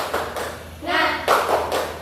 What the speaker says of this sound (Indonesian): kita sama-sama melakukan tepuk semangat